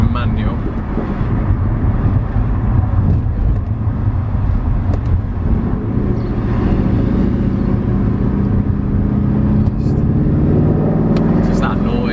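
Exhaust of a Mercedes C63 heard from inside the car on a road test drive, a steady deep rumble with swelling engine tone and some wind noise, continuous throughout.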